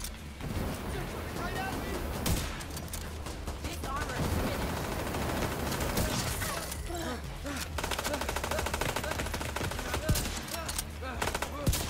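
Sustained gunfire from The Division 2, rapid automatic bursts and single shots crackling nearly nonstop over a dense game soundscape, with a player talking intermittently over the shooting.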